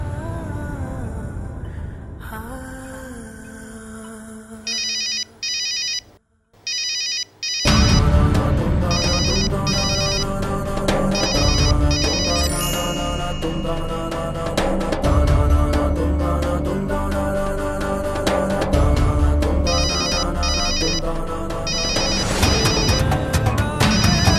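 A phone ringtone plays a repeating melodic pattern, loud and close, over a busy background of music and noise.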